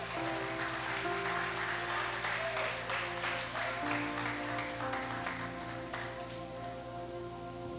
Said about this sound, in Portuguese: aplauda ele bem forte, bem forte.